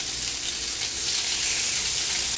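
Fish sizzle steadily in a hot pan with a spicy seasoning, a loud continuous hiss and crackle of frying close by, with no talking.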